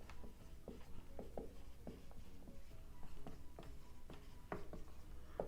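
Quiet, irregular strokes of writing on a board during a biology lecture, short scratchy taps and scrapes spaced through a low room hum with no talk.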